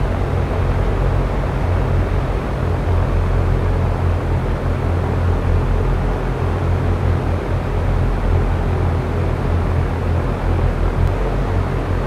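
A Cessna 172's engine drones in the X-Plane flight simulator, a steady, low, rumbling hum that continues unchanged throughout.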